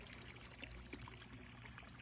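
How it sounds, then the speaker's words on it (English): Water from a garden hose runs in a faint, steady trickle and pour as it refills a backyard pond, with no voices. "So we'll just leave the hose going."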